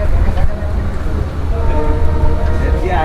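The Jammu Tawi–Jodhpur Express pulls away from Merta Road station in Rajasthan, a loud, close, heavy rumble with faint tonal whines and indistinct voices mixed in.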